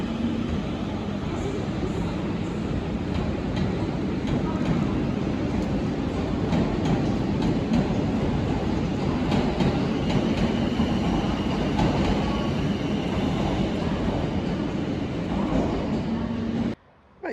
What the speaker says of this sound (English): Right, so I'm at the station, just waiting for my train to get here.